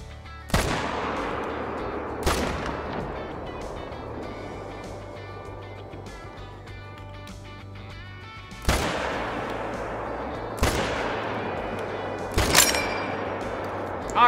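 M1 rifle firing in a hunting video game, five sharp loud gunshots spaced irregularly, each followed by a ringing decay and faint background hum.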